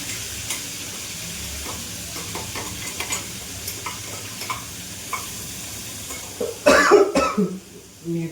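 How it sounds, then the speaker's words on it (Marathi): A coughing fit brought on by chili fumes while cooking patodi rassa, a burst of harsh coughs near the end over quiet stirring and sizzling of spices in a pan. "मिरचीचा ठसका बसलेला आहे."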